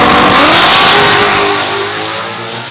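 A drag race car fitted with a Gen 3 engine launches hard, its engine revving loudly up into a roaring pull, then fading as it moves away, with no talk.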